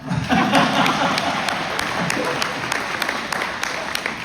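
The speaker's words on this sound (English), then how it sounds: "It's applause line." Audience applause fills a Scott County Republican Party midterm convention hall in Iowa, steady dense clapping with a few sharper claps standing out, sustained evenly from start to end.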